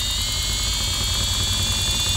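Wolf Jahn Geneva-style 8mm watchmaker's lathe motor spinning up toward about 5,000 RPM, a steady high whine with a strong tone, heard alone and close without talk.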